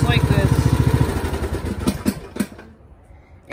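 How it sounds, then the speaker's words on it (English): Engine of a Craftsman T110 tractor mower being shut off: a loud, steady chugging idle that fades and sputters out over a few seconds, ending in near quiet. "I'll turn off the mower right now, just like this"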